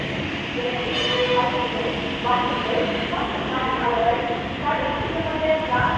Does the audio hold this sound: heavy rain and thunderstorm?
no